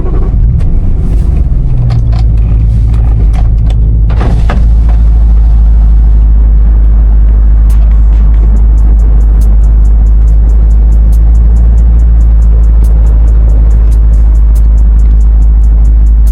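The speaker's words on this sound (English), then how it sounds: "Gotta start the car." A BMW E93 M3 convertible engine cranks and fires, then settles into a loud, steady, deep idle rumble that continues alone at close range.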